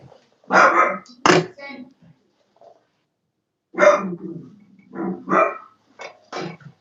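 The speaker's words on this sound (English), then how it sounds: "Who's barking?" A dog barks in short sharp bursts, a couple early and a cluster later, fairly close, with gaps of quiet between.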